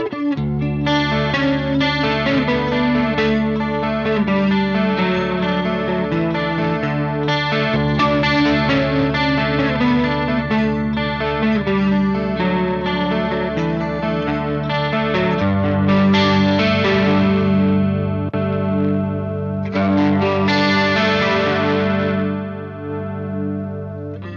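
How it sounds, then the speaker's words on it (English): Clean-channel electric guitar through a BluGuitar Amp 1 Iridium with chorus, shimmering strummed chords and ringing notes played continuously at a steady, full level with no talking. "I have a chorus on here."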